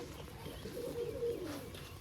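A female pigeon kept at home gives a soft, low coo that swells briefly in the middle, faint against quiet background noise.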